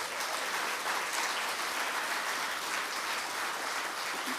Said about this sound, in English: So big round of applause for all of that work